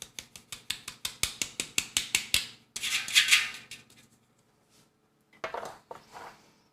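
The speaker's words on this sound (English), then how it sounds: "I'll give that a little sift." A hand-cranked sifter works flour and baking powder for apple cider donut batter, a rapid even series of ratcheting clicks, then a brief rustling shake, silence, and a final short rattle, all close up.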